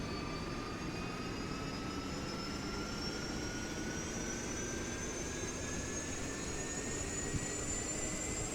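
Huey helicopter turbines in the DCS flight simulator spool up as a steady engine roar, with several whining tones rising slowly in pitch throughout, constant and fairly loud with no speech.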